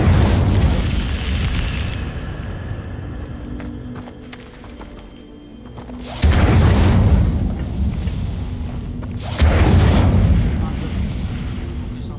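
An Incendio fire spell cast in the video game Hogwarts Legacy bursts out in two loud, booming whooshes that slowly fade, with a voice speaking over the game sound.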